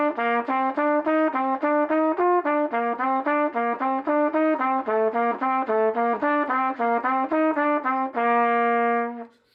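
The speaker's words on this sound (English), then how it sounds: "one of the ways that I like to use it is when playing the Clark exercises" A trumpet runs a Clarke technical study using alternate fingering, with quick, evenly tongued notes rising and falling in a steady rhythm, close and loud, ending on a sustained held tone.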